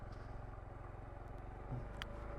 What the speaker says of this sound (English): it's actually really enjoyable to ride this bike through these little single tracks like this